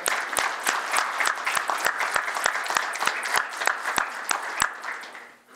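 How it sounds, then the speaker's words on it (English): A small council meeting audience claps, individual hand claps distinct and fairly regular, with a few sharp louder claps standing out before the applause tapers off near the end. "I think you should get a round of applause"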